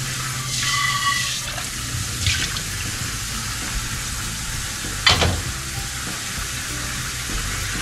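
Water splashes and sloshes as pig trotters are rinsed in a basin, with a steady running-water hiss and a few sharper splashes.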